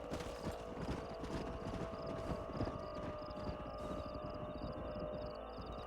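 Horse hooves clip-clop steadily at close range in the Red Dead Redemption video game, a continuous trotting patter under a dense wash of in-game ambience and music.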